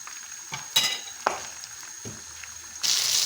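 Stale bread pieces fry in oil in a pan, a soft crackling sizzle with a few sharp clattering stirs and scrapes, then a louder hiss near the end, heard up close without speech.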